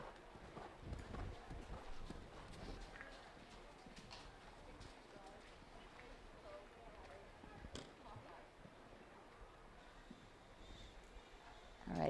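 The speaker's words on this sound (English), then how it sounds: "as he's coming up to the Volvo signature jump, you can see it is a big scopy horse" A big, scopey show jumping horse canters around a 1.45 m CSI2* course. Its hooves give soft, rhythmic thuds at a moderate distance, with background voices over them.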